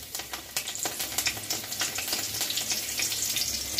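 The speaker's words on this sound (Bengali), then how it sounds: "কড়াইতে তেল দিয়ে দিয়েছি, আর একটু জিরে ফোড়ন দিয়ে দেবো, গোটা সাদা জিরে, তার মধ্যে দুটো কাঁচা লঙ্কা দিয়ে" Whole white cumin seeds and two green chillies sizzle and crackle in hot oil in a kadai, a dense, close, steady spitting with quick pops, and nobody speaks.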